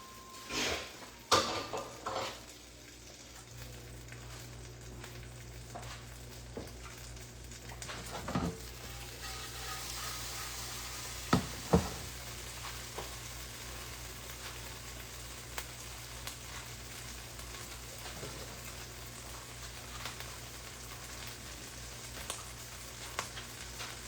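Butter sizzling and frying in a pan, browning and charring, with a steady soft crackle throughout and a few sharper pops and clinks of a pan or utensil, no talking.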